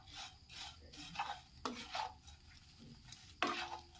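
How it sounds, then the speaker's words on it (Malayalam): Flattened rice (aval) roasting in a pan, with a spatula scraping and stirring it in repeated strokes, each bringing a soft dry rustle and gritty scrape, close and quiet. "അപ്പം നമുക്ക് നല്ലതുപോലെ ഒന്ന് വറുത്തെടുക്കാം."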